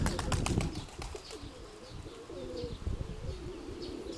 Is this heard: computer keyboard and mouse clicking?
no